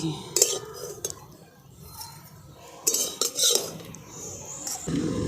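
Ghee-fried bread slices lifted from a pan with metal utensils, giving several sharp clinks and scrapes spaced over a few seconds against a quiet kitchen background.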